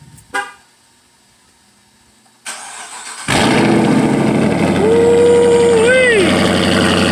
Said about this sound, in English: here's the Daytona with the muffler deletes